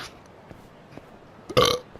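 A single loud burp bursts out near the end, close and alone after faint quiet background ticks, during a Lost Judgment walkthrough session.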